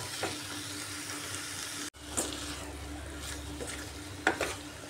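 Chicken frying with spices in a pan before bottle gourd is added: a continuous near sizzle with occasional stirring scrapes, broken by a brief cut in the middle.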